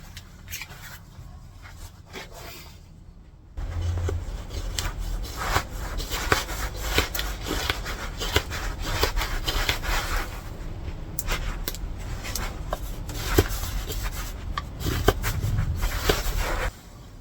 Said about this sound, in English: what I'm then going to do is shave up to that line, and we're going to make one of those figure 7 notches again in both ends of the stick